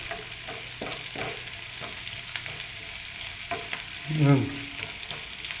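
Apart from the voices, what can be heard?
garlic sautéing with oyster sauce in a pan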